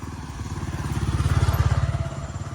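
A moped passes close by on a narrow path in Ubud, Bali, its small engine buzzing with a steady rapid pulse that swells to a peak near the middle and fades as it moves away.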